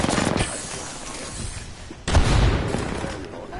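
Gunfire in the video game Apex Legends: a loud rattling burst, then a short lull, then a heavy booming impact followed by more sustained firing, all close and dense.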